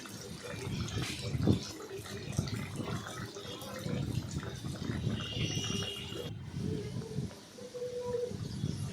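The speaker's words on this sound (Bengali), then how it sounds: "আমার তেলটা গরম হয়ে গেছে। এরপরে আমি এক এক করে তার মধ্যে ছাড়লাম।" Dal puri, lentil-stuffed flatbread, dropped one by one into hot oil to fry, giving a steady, close, crackling sizzle that fills the whole stretch with a slight change in tone partway through.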